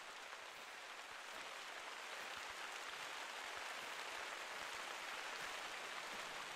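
Steady rainfall in Hunter: Call of the Wild during a red deer hunt in Germany, a soft, even hiss of drops with no talking.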